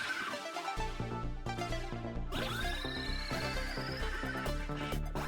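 A horse in Cyberpunk 2077 gives a sharp whinny that slides downward, heard over a busy music score, with a second neigh-like cry rising later; no one talks.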